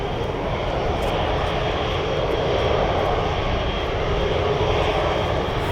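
Steady, loud roar of jet engines from an Airbus A380 at Manchester Airport, a continuous broadband rumble holding level throughout with no pauses.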